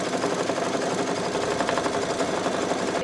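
Embroidery machine stitching a mustard bottle design, a fast steady mechanical needle chatter with a rapid even rhythm, close and continuous with no voices.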